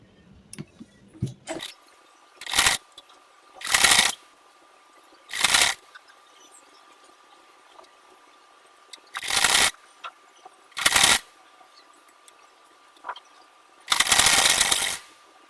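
A sewing machine stitches a burqa sleeve onto the shoulder in short runs. There are about six separate whirring bursts, each lasting under a second or so, with quiet pauses between them and a longer final run, recorded up close.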